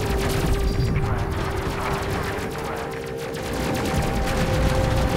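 Dense sci-fi gunfire and explosions from the space game Space Crew, a continuous loud barrage of rapid shots and booms over a steady engine hum, with no pause across the stretch.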